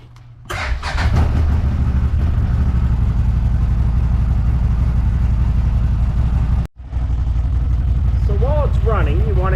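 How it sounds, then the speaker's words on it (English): A CFMoto ZForce 950 side-by-side engine idles steadily after an oil change, loud and close, with a brief cutout near the end before running on; voices talk over it. "we're going to let the bike run for about 30 seconds or so because you want to get fluid or oil through your oil filter"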